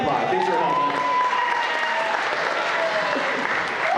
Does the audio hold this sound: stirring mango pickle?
no